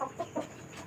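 A sick chicken with chronic respiratory disease (CRD) gives a few short, rattling snore-like breaths, close by and fairly quiet, three quick bursts within a second.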